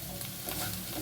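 Sliced bitter gourd fries slowly over low gas heat in a pan, giving a brief, steady hiss of oil with no voices.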